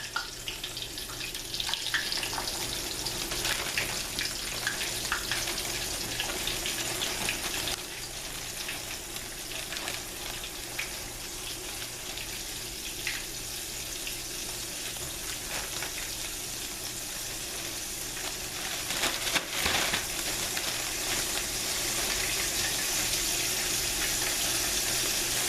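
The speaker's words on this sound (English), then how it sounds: "We're gonna let that fry for about 6 minutes." Chicken fries in hot oil for fried chicken, giving a steady, dense crackling sizzle that carries on evenly throughout at close range, with no voices.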